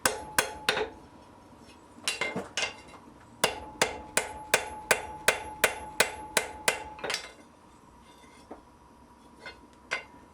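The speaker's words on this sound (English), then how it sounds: "After welding, I always forge out the bit to make sure that everything's lined up properly" A hammer rings out in sharp metallic strikes while a blacksmith forges the welded bit of a pair of tongs, a fast steady run of about a dozen blows flanked by scattered single hits, close and clear.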